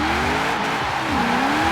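A 1945 Jeep Willys MB drifting in Forza Horizon 4, its engine droning loudly with shifting pitch while tires squeal continuously through the slide.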